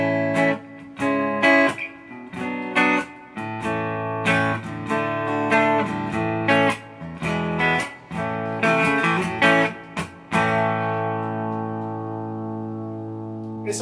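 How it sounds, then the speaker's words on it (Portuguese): Electric guitar played clean on its P90 neck pickup alone, a run of plucked notes and chords with warm sustained tones, ending on a ringing chord that fades. "Esse é o som do braço aqui."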